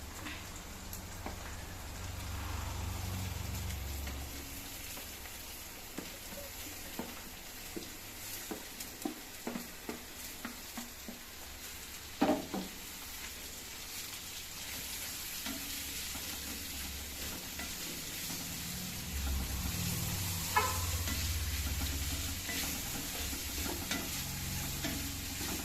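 Onions fry in a pan with a soft, rain-like crackling sizzle, punctuated by a run of spatula taps and scrapes in the middle and a louder knock partway through.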